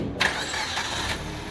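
A car engine cranks and fires up during an automotive air-conditioning system check and refrigerant recharge, settling into a steady mid-pitched idle close by with no talk over it.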